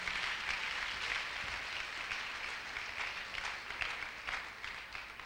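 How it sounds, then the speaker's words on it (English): Church congregation applauding together, a steady wash of many hands clapping throughout, fairly distant and even, with no voices standing out. "Let's clap for them again as they take their seats."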